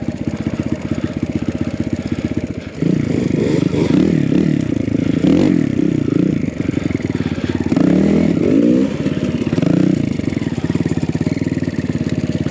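A BBR KLX170RF dirt bike descends a slippery rocky downhill section into a rut, its engine droning steadily with rising revs, clattering and scraping over stones, close and loud throughout.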